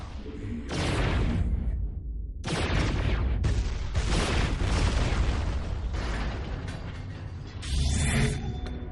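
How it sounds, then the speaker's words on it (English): StarCraft II battle with Protoss Immortals' hardened shields soaking up Terran gunfire: dense bursts of mechanical clatter, impacts and blasts in loud waves separated by brief lulls, no speech. "You can see the hardened shields are activating now, and they're absorbing most of this Terran fire"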